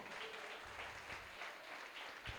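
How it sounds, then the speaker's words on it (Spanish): A church congregation claps steadily throughout, a dense, even patter of many hands heard from a distance and fairly faint. "Denle un fuerte aplauso al Señor."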